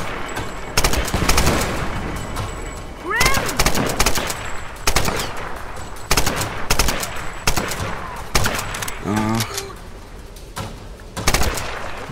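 Lara's weapon fires in the Tomb Raider video game, with repeated bursts of gunfire and rapid volleys in clusters over twelve seconds, loud and close, mixed with game sounds.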